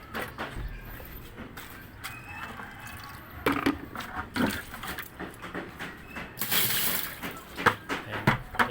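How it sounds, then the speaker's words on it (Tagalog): Water gushes and splashes into a washing machine that will not drain, a steady rushing flow with clunks and louder surges near the end. "So, lagyan natin"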